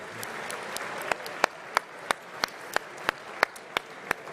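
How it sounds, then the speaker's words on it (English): A crowd at a football awards ceremony applauds continuously, a dense wash of clapping with a few sharp, louder claps punctuating it at a regular pace. "one more big round of applause, please"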